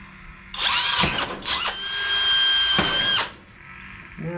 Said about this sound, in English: Now let's see if we can drill some holes.